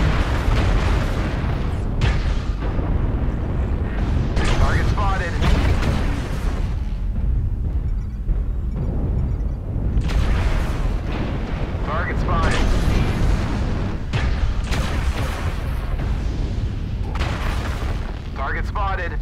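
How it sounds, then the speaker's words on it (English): Video game artillery strike explosions pound continuously, with deep, loud, overlapping booms and rumbling blasts filling the whole stretch and a few sharper bursts standing out. "Artillery strike online."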